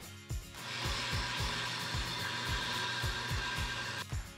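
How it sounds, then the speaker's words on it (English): A power sander grinds the wooden end off a prop sword pommel for a Bloodborne Saw Cleaver, a steady close whine with rhythmic low thumps throughout, no talk. "first I'm gonna sand this end off"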